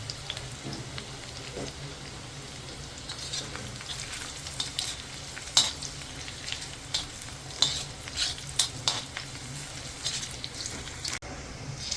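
Garlic fries in oil until reddish, giving a soft continuous sizzle with scattered clicks and scrapes of stirring, fairly quiet and close, no talking.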